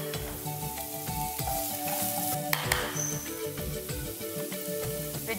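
Carrots, onion and cabbage sauté in a pan for chicken noodles, giving a steady close sizzle with occasional soft stirring scrapes and no talking.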